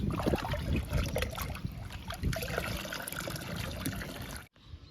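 Liquid ant repellent is poured onto potted plants, including a sapota plant, in a steady splashing trickle that runs close and continuous before stopping abruptly near the end.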